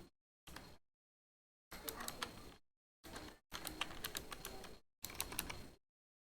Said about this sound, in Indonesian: Lalu saya ketik nama